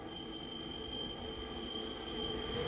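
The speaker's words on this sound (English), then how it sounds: "you can sit on a train and just watch it roll by." A Swiss train rolls along with a steady, continuous rumble and a faint high whine, a constant moderate drone with no voices.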